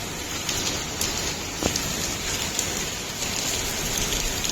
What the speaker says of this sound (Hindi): ये देखो बारिश कितनी तेज हो रही है